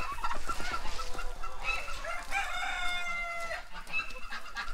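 Poultry calls fill the scene: a rooster crows repeatedly alongside clucking hens and honking geese, loud and close, in a busy outdoor flock of chickens, goslings and ducklings.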